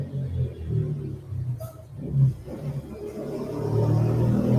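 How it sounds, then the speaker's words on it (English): Buses and cars pass along a Buenos Aires street, a low rumbling drone of traffic swelling and fading nearby, with one vehicle revving briefly. "Let me put a one in the chat if those buses and all the cars passing by are too loud."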